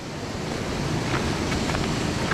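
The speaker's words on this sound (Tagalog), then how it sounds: "Grabe yung alon dito." Ocean waves roll and wash steadily near a shoreline fishing spot, a continuous rushing surf mixed with wind buffeting the microphone, with no voices.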